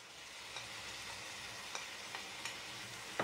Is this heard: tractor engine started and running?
no